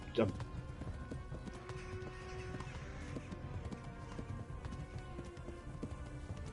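A horse gallops in the medieval role-playing video game Kingdom Come: Deliverance, a steady rhythmic clip-clop of hooves with a brief whinny at the start, under a player's talking.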